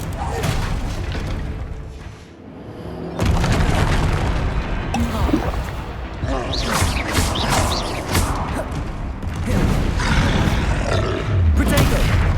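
Confringo fire-blast spells going off in Hogwarts Legacy combat, loud booming bursts and roaring rumbles that arrive in repeated waves amid a busy battle soundscape, with a voice shouting spell names over them.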